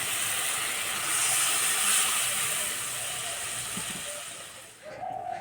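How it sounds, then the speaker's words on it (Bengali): Soaked tamarind water is poured into a hot pan of fish curry, giving a loud steady hiss and rush that swells and then tapers off, ending in a short bubbling near the close. "এবার জলটা দিয়ে দেব।"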